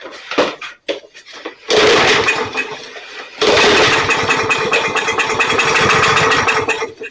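A Yard Machine gas lawn mower is pull-started twice; the first pull sputters briefly, then the second catches into a loud, rough, close-up running clatter that continues steadily.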